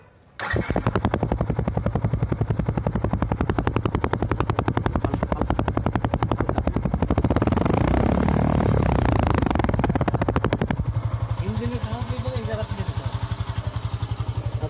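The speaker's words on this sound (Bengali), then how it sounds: "এবার সাইলেন্সার এবং ইঞ্জিনের শব্দটা শুনে নিন" Yamaha FZ ABS motorcycle idling and revving, its engine and silencer exhaust giving a rapid, loud, even pulsing that swells in the middle and then settles back to a steady idle, close up, with a voice speaking over it near the end.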